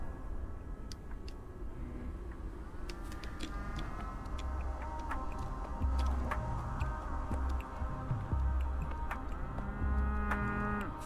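Cow mooing in the video game Pathologic 3, low drawn-out lowing calls repeating through the second half over an ambient game soundscape with faint ticking.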